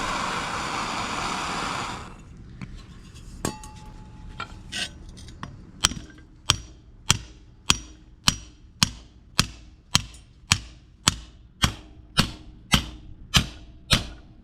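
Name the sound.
hammering heated metal bends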